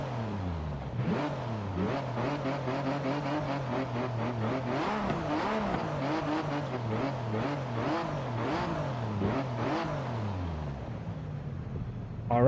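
Car engine in Forza Horizon 5 with a naturally aspirated 4.2-liter sound, revving up and down repeatedly through gear changes, loud and continuous with rising and falling pitch sweeps.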